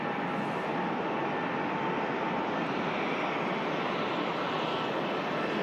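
A Turkish Airlines Airbus A321 jet at Manchester Airport gives off a steady, broad engine roar that holds constant throughout with no talking.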